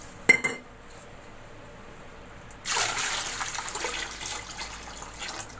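Water poured into a pot of soaked broken rice for pulao: a sharp clink at first, then after a quiet stretch a loud, steady gushing pour with splashing that runs to the end, no talking.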